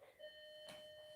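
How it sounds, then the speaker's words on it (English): A doorbell chimes at a home, faint and somewhat distant, a single bright electronic ding with a lingering tone in an otherwise quiet room. "Oh, doorbell."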